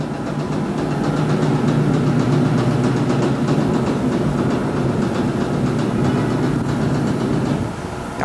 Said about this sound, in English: I just want to get the lift going up